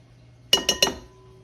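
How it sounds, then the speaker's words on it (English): A metal spoon clinks three times in quick succession against a dish while scooping out little baked potatoes for twice-baked potatoes with BBQ brisket, sharp and close in a quiet kitchen. "Just scooping out the little potatoes there, best as possible without ruining the skin."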